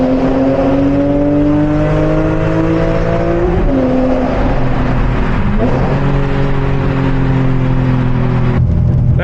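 A car engine drones steadily while driving on an American highway, loud and close, with the pitch sliding gradually and dipping at gear or speed changes, no talking.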